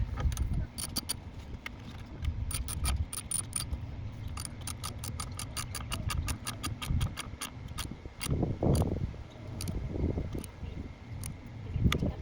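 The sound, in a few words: ratchet tightening 10mm socket on car battery terminal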